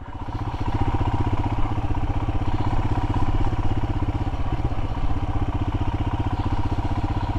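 A Royal Enfield Himalayan motorcycle runs in second gear along a bumpy, stony track, its single-cylinder engine thumping in a loud, steady, even pulse close to the rider throughout.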